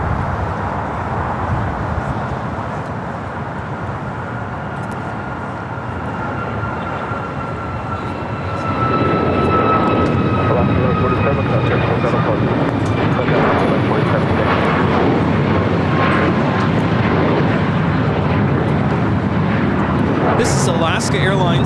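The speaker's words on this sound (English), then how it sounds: "This is Alaska Airlines 1147 taking off to Seattle on a MAX 9." An Alaska Airlines Boeing 737 MAX 9 takes off from LAX bound for Seattle. A steady jet rumble rises to a louder, fuller roar about halfway through and stays strong, with high engine whines drifting across and voices talking over it.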